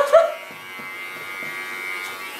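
Fine-hair electric clipper trimming a platinum pixie cut, giving a steady close-up motor buzz that swells briefly at the start, then holds an even drone throughout.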